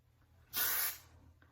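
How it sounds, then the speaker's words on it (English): A single short hiss of hairspray from a can, sprayed from about six inches onto hair curled with a flat iron. The burst is close and crisp, lasting about half a second in a quiet room. "spray it"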